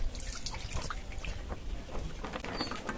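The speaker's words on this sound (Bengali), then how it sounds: "কেটে নেওয়ার পরে আমগুলো আরেকবার একটু পরিষ্কার করে ধুয়ে নেব" Water splashing and dripping as cut ripe mangoes are rinsed, close trickles and light splashes running continuously at moderate level.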